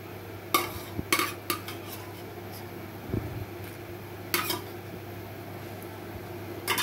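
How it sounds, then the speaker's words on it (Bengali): Utensil clatter and scraping as vermicelli is stirred in ghee with raisins in a pan, a few sharp metallic knocks over a steady low kitchen hum, with faint sizzling underneath. "এখন আমি সেমাইটা ভেজে নেব ঘিয়ে।"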